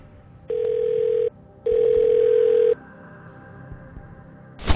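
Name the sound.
telephone ringing for phone-a-friend lifeline in Who Wants to Be a Millionaire video game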